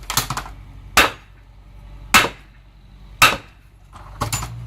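A hammer strikes a Tremec T5 transmission case four times at roughly one-second intervals, each whack a sharp, close metallic crack, with lighter clattering between the blows.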